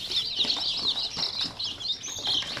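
Native chicks, a batch of about ninety recently hatched ones, flapping their wings and peeping steadily in a close, dense chorus of high chirps with soft wing flutters throughout.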